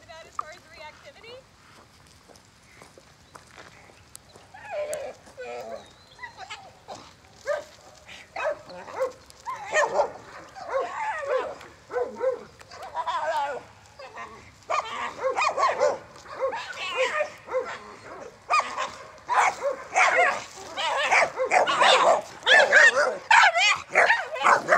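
Reactive pit bull barking and whining at an approaching dog, starting quiet and building to loud, rapid barks over the second half, with a trainer talking throughout.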